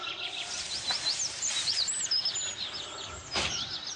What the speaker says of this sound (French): Entendre les oiseaux